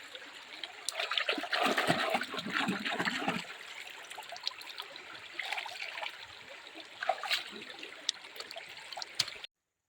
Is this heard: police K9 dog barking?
no